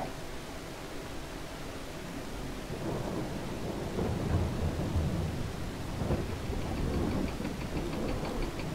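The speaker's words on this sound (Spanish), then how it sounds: "me cansa tanta lluvia" Thunderstorm weather in the video game Farming Simulator 22: steady hissing rain with deep rumbling thunder that swells and rolls through the middle, continuous and fairly loud, with no talking.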